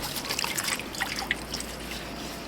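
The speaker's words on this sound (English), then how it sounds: "I'm going to go in because I'm going to get dripped on." Water trickling and dripping off a narrowboat as it is washed, a faint, irregular patter of small drops close by.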